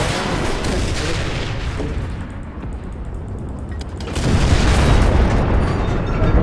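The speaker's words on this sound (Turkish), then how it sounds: "Bakalım karşı yapımımız patladı." In the war video game Enlisted, a heavy explosion booms out amid battle noise, a loud rumbling blast that fades before a second, stronger wave of booming impacts swells near the end.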